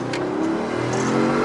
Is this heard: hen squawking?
no